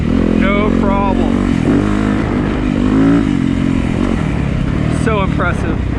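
Yamaha YZ250FX dirt bike engine revving hard as the front wheel lifts into a wheelie, a loud continuous motor drone with pitch rises, heard under someone talking throughout.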